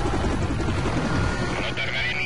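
Police helicopter in the video game Need for Speed Most Wanted, a steady rotor whir and engine drone mixed with car chase noise while someone talks in Spanish over it.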